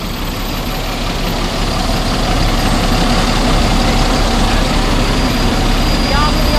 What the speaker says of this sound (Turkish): Görmüş olduğunuz gibi trafik de çok yoğun.